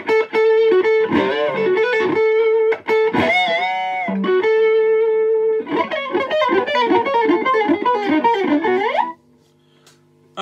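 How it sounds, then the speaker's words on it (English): A 1963 pre-CBS Fender Telecaster electric guitar played through the neck pickup with distortion rings out in loud, close chords and riffs for about nine seconds, then cuts off. "rocky neck pickup sound. Very real. I put the old distortion on"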